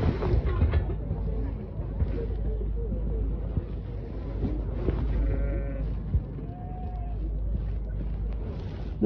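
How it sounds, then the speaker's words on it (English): Sheep bleat several times at close range among farm livestock, with short wavering calls over a steady low rumble of wind and background noise, and a person talking at points. "Look at the sheep, look."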